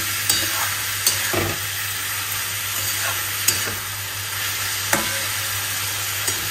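Batter fries in a pan with a constant hissing sizzle, punctuated every second or so by sharp spatula clinks against the pan as it is stirred.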